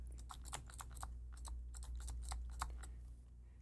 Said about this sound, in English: We'll type math assignment.